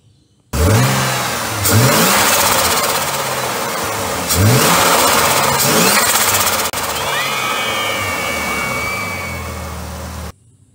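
A turbocharged Ford Barra engine revs hard in several sharp, loud bursts, each climbing and falling back, with a whistling turbo spool and flutter after the last rev, close up with no talking.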